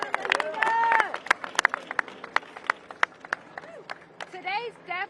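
Scattered clapping from a crowd gathered for Attorney Lanita Baker outdoors in Louisville, sharp individual claps and cheers mixed with people talking and murmuring nearby.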